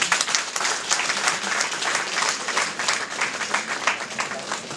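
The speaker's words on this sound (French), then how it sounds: "on les applaudit" A crowd at a tenth-anniversary celebration of the Mayi ya Sika and Mayi ya Pembe associations applauds the mothers. The clapping is dense and sustained, fairly loud, and fills the hall evenly from start to finish.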